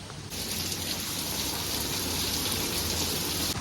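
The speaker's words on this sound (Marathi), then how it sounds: "अचानक पाऊस आलेला खूप म्हणजे खूप पाऊस खूप पाऊस येतोय" Heavy Mumbai monsoon rain pours steadily and loudly, a dense hiss that starts abruptly and continues without letup.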